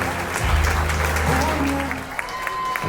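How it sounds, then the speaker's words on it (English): Guests at a wedding reception clap for the couple's special dance, a broad wash of crowd applause mixed with music playing in the room, steady throughout. "Big round of applause for Ever and his mom, ladies and gentlemen"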